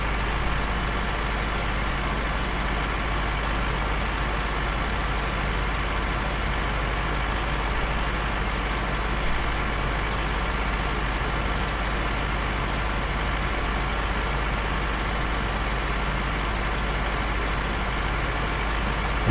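Vintage tractor pulling a mower across a field in Farming Simulator 15, its engine a steady, unbroken low drone that holds at the same level from start to finish with no talk.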